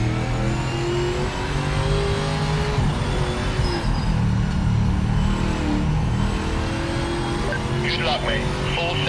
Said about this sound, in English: It is powerful. It's got to be a massive V8